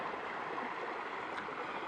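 Clean creek water flowing steadily in a quiet wooded spot at the source of Rock Creek, a continuous close-up rush and babble with no voices.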